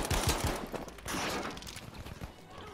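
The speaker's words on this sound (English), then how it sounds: "The machine gun." Machine gun fire in Battlefield V on PC, on the Panzerstorm map in Airborne mode, comes as distant, rapid, rattling bursts with scattered thuds amid busy battlefield noise.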